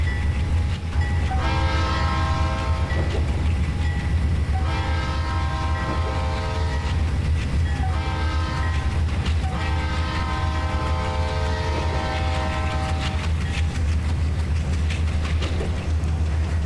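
A six-axle C39-8 diesel locomotive rated at 3900 horsepower in the Trainz simulator, a steady loud engine drone with repeated horn blasts sounding in several long bursts across the clip.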